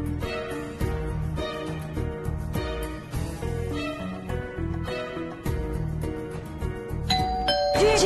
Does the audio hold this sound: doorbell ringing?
yes